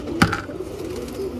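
A white pigeon kept as a pet coos once, a short, close, low burst near the start followed by soft ambient hiss.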